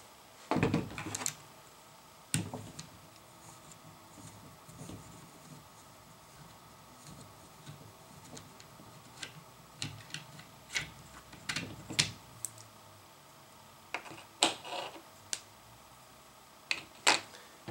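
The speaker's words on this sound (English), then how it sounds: "we're going to go ahead and use the 3mm Allen wrench" A 3mm Allen wrench works the screws on a Micro Roni carbine while a 16-inch IGB barrel is installed, giving sparse faint metallic clicks and ticks spread irregularly through a quiet background.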